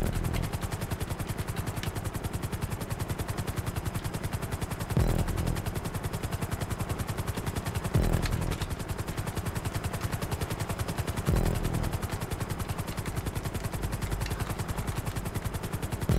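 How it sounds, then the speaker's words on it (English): Helicopter flying in GTA 5 Online during a random race, a steady, dense rotor chop running throughout at close range, broken by brief louder bursts around five, eight and eleven seconds. "Not a bad helicopter, but it's certainly not a jet"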